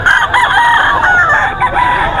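A Kanawayon gamefowl rooster crows loudly and close, one sustained strained call filling the short moment with no talk over it.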